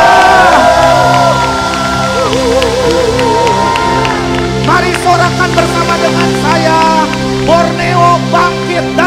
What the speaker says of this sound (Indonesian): berikan sorak-sorai sorak-sorai bagi dia